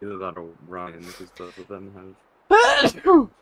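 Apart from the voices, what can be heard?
sneeze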